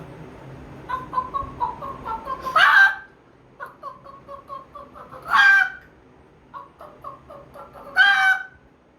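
A person imitates a hen's cackling after laying an egg, with quick repeated clucks building into three loud squawking peaks at even intervals, performed alone and close up.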